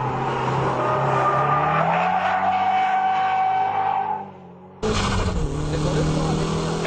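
Car drifting in GTA San Andreas, a steady loud engine drone with rising tire squeal, a brief drop near the end before the engine and skid noise return at full level.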